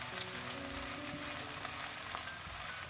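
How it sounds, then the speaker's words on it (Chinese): Chopped scallion, ginger slices and garlic stir-fried quickly in a little leftover oil in a wok, a loud dense close sizzle with steady crackling throughout. "将切好的葱花、姜块、蒜片都加进来，快速的翻炒"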